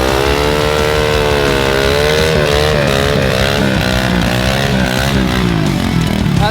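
A motorcycle ridden on a bare rim with no tire, its engine droning loud and close with shifting pitch as it revs and pulls along steadily.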